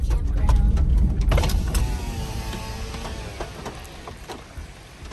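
A car pulling away from a campground at the start of a coastal highway drive in Washington State, low engine rumble and interior mechanical whirring with a few clicks, fairly close and steady.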